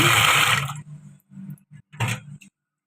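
Tap water splashes into a vessel to rinse rice for ven pongal: a loud rushing pour for about half a second, then several short, softer sloshes and swirls.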